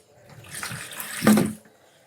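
Water pours into a metal pot from a tap, a short splashing rush that swells and briefly peaks before cutting off, heard close with no talking.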